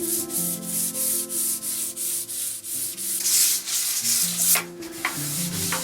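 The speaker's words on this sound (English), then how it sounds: "So I'll rub this down with a bit of sandpaper" Fine sandpaper rubs back and forth over a solid oak table in steady, rhythmic strokes, close and fairly loud, a hissy scraping repeated about every half second.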